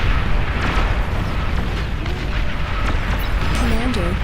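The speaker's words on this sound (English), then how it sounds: "So many explosions" Rapid overlapping explosions and booms from a large real-time strategy battle in Beyond All Reason, a continuous roar of bursts with crackling debris, heard under a commentator's voice.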